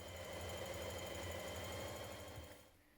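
A sewing machine runs a continuous line of stitching around a trouser waistband strap, its rapid mechanical needle chatter steady and close for a few seconds before stopping.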